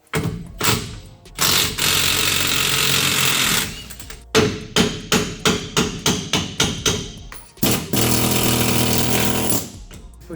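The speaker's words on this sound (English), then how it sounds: "Next thing we're gonna do is take the pinion out." An impact tool hammers in a 2005 Chevy Silverado rear differential while the pinion is driven out, with long sustained rattling bursts and a run of rapid rhythmic blows close by.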